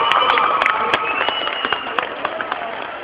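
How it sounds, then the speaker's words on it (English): Applause and scattered cheering from a middle school concert audience, a steady wash of clapping with sharp individual claps and a few shouts, fairly close, running throughout. "Y'all give him a round of applause."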